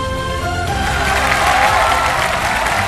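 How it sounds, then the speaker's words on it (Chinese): Studio audience applauding on a Chinese televised singing competition stage as judges are introduced, a dense steady clapping wash that fills the whole stretch at close, loud level. "让我们掌声有请毒海、"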